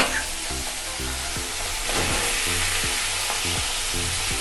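Potato and eggplant frying with prawns in a pan, a dense close sizzle and crackle with a rhythmic low pulsing under it, steady throughout.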